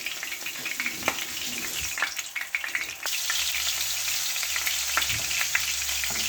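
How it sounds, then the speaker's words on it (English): Fish fries in hot oil, a close, steady crackling sizzle with sharp pops and a brief scrape early on. The hiss swells louder and denser partway through and then holds steady. "the fish is in the oil now, viewers, and we're going to cook each side for around about 2-3 minutes"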